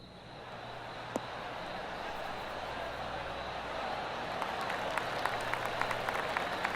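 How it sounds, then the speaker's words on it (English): Spectators at a professional golf invitational give a polite golf clap, a steady wash of applause filling the clip with a few sharper claps near the end. "Oh, golf clap."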